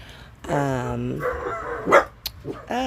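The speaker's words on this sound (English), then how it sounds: "puppy barks." A puppy lets out a drawn-out, whining bark followed by a couple of short yips, close and fairly loud, with people talking around it.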